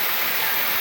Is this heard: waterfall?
yes